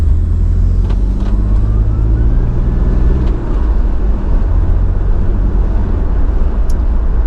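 A Toyota Aristo with a 2JZ engine and stock twin turbos idles while cold. The engine gives a loud, close, steady low rumble with a faint turbo whine, and no voices are heard.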